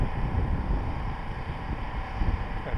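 Wind blows outdoors at a flying field for a 3DHS Edge model plane, a loud, continuous low rumble and buffeting against the microphone throughout, with no talking.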